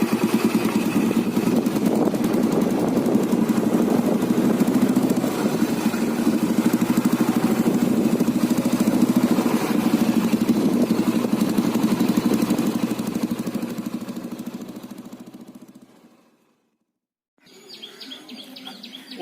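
An old model Royal Enfield Bullet motorcycle engine thumps steadily with a low, even beat for about fifteen seconds, then fades out, with faint bird chirps after a brief silence.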